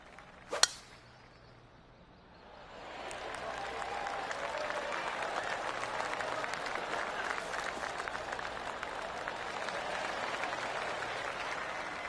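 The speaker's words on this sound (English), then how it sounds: "That deserves a golf clap." Applause from a golf gallery after a birdie on a par-4 hole: a single sharp crack early on, a short lull, then steady, dense clapping that swells in and holds to the end.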